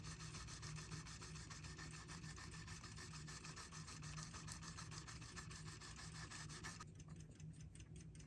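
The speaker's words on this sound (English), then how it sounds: "The stencil is only several thousandths thick, and 2000 grit sandpaper works good for this." Fine 2000-grit sandpaper rubbing the edges of a thin stencil on the dial of a Seth Thomas ship's bell clock, a steady close raspy scrubbing that runs continuously, then briefly changes texture near the end.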